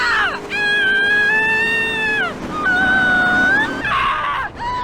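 A woman screams and wails inside a car during a mission in GTA San Andreas, long rising and falling shrieks running almost continuously over low engine and road noise.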